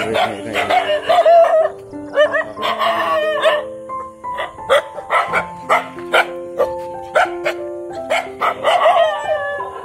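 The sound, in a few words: dogs barking aggressively in a village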